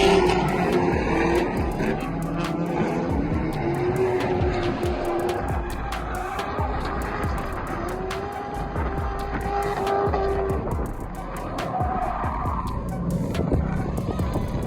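A C6 Corvette drifts and spins nearly a full 360, its engine revving and wavering while tires squeal and skid continuously, loud and close throughout.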